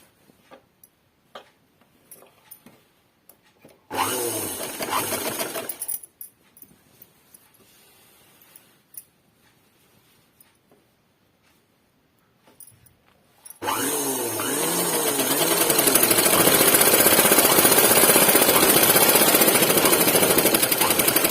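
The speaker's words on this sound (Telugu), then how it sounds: "ఇక్కడ చిన్న హోల్డింగ్ చేసి ఇంతవరకు అయితే మడిచి కుట్టేయాలన్నమాట" A sewing machine stitches the folded hem of a gathered skirt. A short rapid mechanical burst is followed by a pause, then a long, loud, steady run of fast stitching close up.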